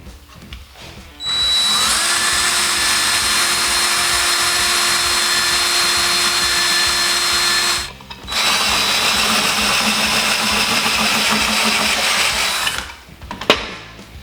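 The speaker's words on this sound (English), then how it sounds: "Now that's drilled out" A power drill bores holes through a motorcycle muffler cap on a Maxim XJ650 cafe racer build, giving a loud steady whine that runs for several seconds. It pauses briefly, then runs again for another long stretch before stopping.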